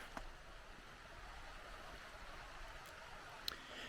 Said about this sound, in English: It's a creek down here.